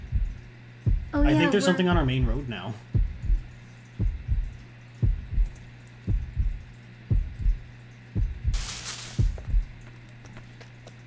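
A steady, muffled heartbeat thumps in an even rhythm through the Yomawari 3 horror video game, with a player talking over the opening beats and a brief hiss later.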